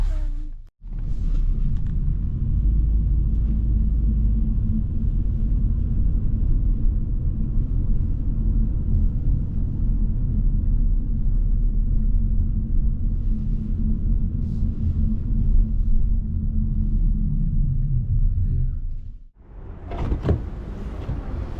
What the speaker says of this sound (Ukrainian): ми вже в ліфті і зараз їдемо туди